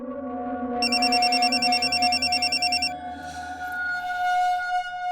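Ringback tone of an outgoing telephone call, a repeating electronic trill at steady moderate volume over a low background hum, with no talking.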